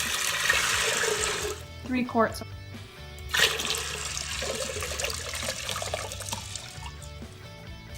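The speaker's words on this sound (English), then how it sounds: "Next, you're gonna pour in your water." Water is poured into an Instant Pot for refried beans in a home kitchen, a short splashing stream that stops and restarts, with a person talking over it.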